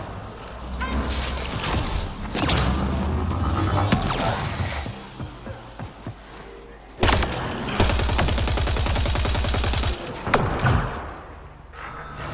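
Gunfire in Mass Effect Andromeda: bursts of rapid shots and impacts rattle through the first half, then after a lull a loud, sustained stream of automatic fire takes over, close and dense.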